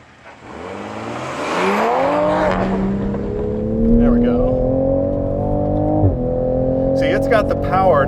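A 2020 Toyota Supra accelerates hard as the rear slides out, its engine note rising loud and close while the tires squeal through the slide, with a voice over it.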